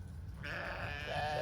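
A sheep bleats nearby, a short wavering cry that starts partway through and rises slightly toward the end, fairly faint, with no talking.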